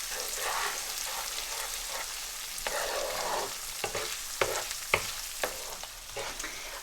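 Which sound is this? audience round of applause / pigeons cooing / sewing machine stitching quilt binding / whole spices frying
whole spices frying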